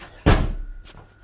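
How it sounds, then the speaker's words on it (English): A door swings shut with one solid slam, loud and close, its thud fading over a short tail, followed by a fainter knock a moment later; no one speaks. "let me close the door"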